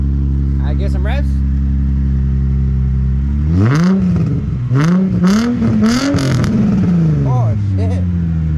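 Nissan 350Z with a new aftermarket exhaust idling low, then blipped into several sharp rising revs that fall back between each, loud and close, with people talking over it.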